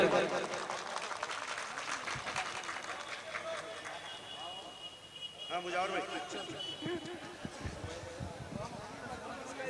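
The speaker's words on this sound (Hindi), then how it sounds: "जोरदार तालियों से इस्तकबाल करें।" An audience at a mushaira poetry gathering in Akola claps steadily, a dense patter of many hands, with speech and crowd murmur mixed in.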